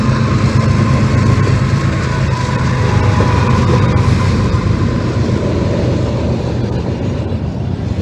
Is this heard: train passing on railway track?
yes